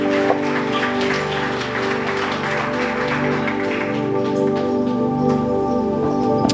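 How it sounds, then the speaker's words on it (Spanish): Congregation in a Spanish-language church service giving a strong round of applause, dense pattering claps layered over sustained organ or keyboard tones that ring throughout. "le da un fuerte aplauso al Señor"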